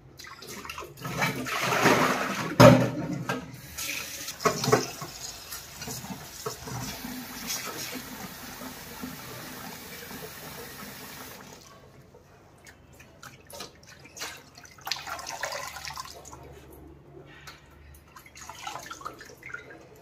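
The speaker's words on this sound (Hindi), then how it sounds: "इसको अच्छे से धोना पड़ता है, पालक को एक बार नहीं, इसको बहुत बार धोना पड़ता है।" Spinach for palak paneer is washed in water: irregular splashing and dripping as the leaves are swished and lifted, a short lull, then more splashes.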